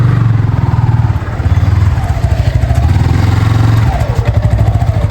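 A motorcycle rides along a narrow green village lane, its mid-pitched engine droning steadily and close with small rises and dips in revs, joined by light rattling clatter throughout.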